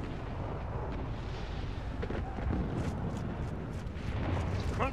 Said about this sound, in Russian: Пушка. Пушка там.